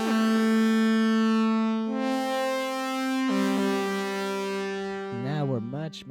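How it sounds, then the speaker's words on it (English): An OB-6 synthesizer with detuned unison oscillators and LFO pitch modulation, a bright, buzzy sustained tone that shifts pitch in steps and ends in a wobbling, warbling vibrato, loud and close with no speech. "now what you hear is the unison oscillators kind of doing that splatty sound"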